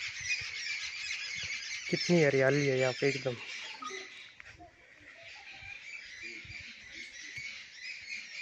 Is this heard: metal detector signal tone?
no